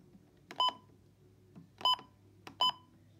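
Midland WR120 and WR400 weather radio alarm clocks sound three short, sharp electronic beeps spaced unevenly over a few seconds, faint and close in a quiet room.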